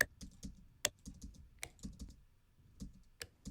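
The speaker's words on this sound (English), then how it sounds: "there's a light switch back on that wall that I actually just sampled 4 times just with my iPhone" Several sharp, quiet light switch clicks recorded on an iPhone, in an irregular pattern with short pauses between them, close and a little thin.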